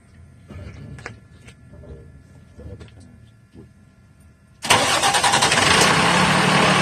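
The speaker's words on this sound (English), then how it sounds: "The engine's running." A truck engine starts during a CDL pre-trip check, cranking and catching into a loud, steady idle that holds to the end, after some quieter mechanical clicks and faint voices.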